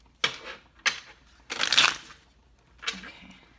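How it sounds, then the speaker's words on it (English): Tarot cards being shuffled by hand in four brisk bursts of riffling and sliding, fairly close and moderately loud, with quiet pauses between them and no talking. "we're going to have one more shuffle"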